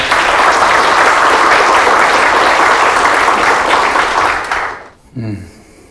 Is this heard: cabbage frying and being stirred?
no